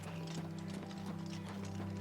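Horse hooves clip-clop at a steady trot in The Elder Scrolls IV: Oblivion, close and regular over a low droning game background, no voices.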